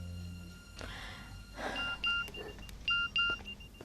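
Short electronic notification beeps from a mobile phone announce incoming text messages in a dubbed TV drama scene, several brief tone pairs repeating at a moderate level over soft background noise.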